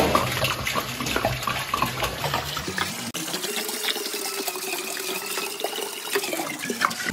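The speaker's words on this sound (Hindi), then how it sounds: "भाई पहले जाएगा इसके अंदर पानी।" Water runs and splashes steadily into a large cooking pot, a continuous rushing pour that deepens in tone as it fills.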